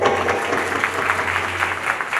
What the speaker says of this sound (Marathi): बाबांसाठी आपल्या टाळ्या वाजवा